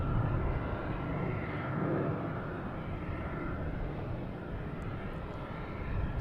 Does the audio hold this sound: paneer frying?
no